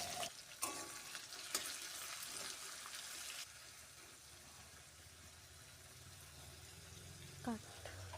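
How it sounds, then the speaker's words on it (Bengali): Chopped onions fry in a hot pan for a chicken curry, giving a steady soft sizzle with stirring clatter near the start and a brief tap later. "কুচো করা পেঁয়াজটাকে 2-3 মিনিট ধরে ভালো করে ভেজে নিতে হবে"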